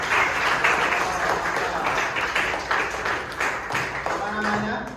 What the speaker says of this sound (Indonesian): Tuh, beri aplaus dulu.